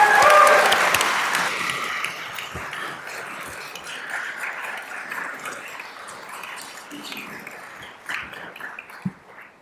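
Audience applause welcoming Nevada governor Joe Lombardo to the stage at a Certified Public Manager program graduation, a full round of clapping that peaks at the start and slowly thins out, with a few scattered claps lingering at the end.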